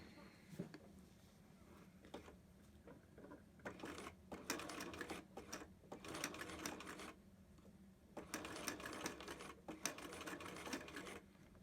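A sewing machine stitches and backstitches along the zipper tape of a fabric zipper pouch, running in several bursts of steady, rapid mechanical whirring separated by short pauses.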